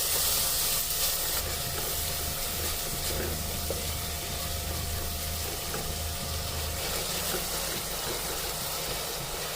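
Chopped tomatoes and onions fry in a pan for crab pepper masala, giving a steady, even sizzle and hiss with no break, at moderate level and without talk.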